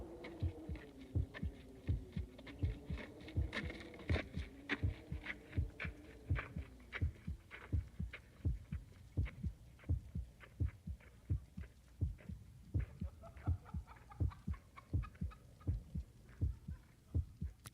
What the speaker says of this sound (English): In one rather bizarre track, we hear wind, footsteps, a heartbeat, and laughter all together.